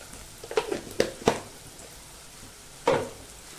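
Chopped onion sizzles in a hot pan with salt, a soft frying hiss broken by several sharp clinks and stirring knocks, the loudest near the start and one more near the end.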